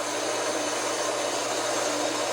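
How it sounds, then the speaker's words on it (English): A bandsaw cutting wood runs with a loud, steady, broadband whirring roar that holds constant throughout without pauses. "The only reason I use the bandsaw is because it cuts a perfectly square cut."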